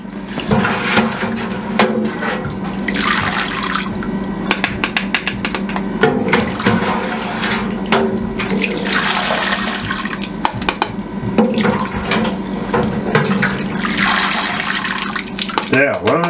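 Liquid from cooking pours and splashes while being strained, a loud, continuous watery rush with surging bursts throughout, under occasional talk.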